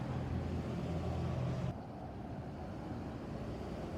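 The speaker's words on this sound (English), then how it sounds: "You might hear some road noise." Steady road noise rumbles through a live parking lot, a broad low traffic hum that drops slightly in level partway through, with no voices.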